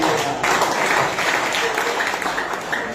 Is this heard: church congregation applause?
yes